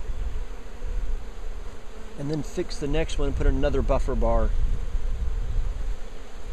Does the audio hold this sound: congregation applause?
no